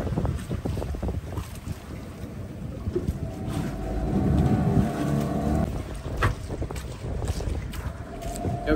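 A motorboat running across open water near a remote island, its engine droning under heavy wind buffeting and splashing waves, rising and falling in intensity.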